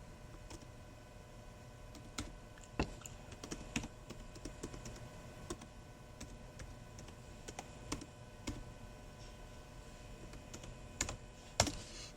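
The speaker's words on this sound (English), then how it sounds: "I got to type the whole thing in or it won't show up." Keys clack irregularly on a Chromebook keyboard, close and fairly quiet, with a few louder taps among the quick strokes.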